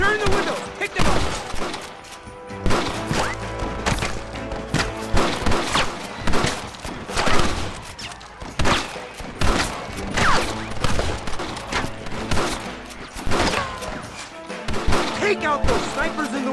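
Rapid gunfire in Red Dead Redemption on PC, a dense fusillade of sharp shots and thuds that runs throughout, loud and close, mixed with in-game shouting.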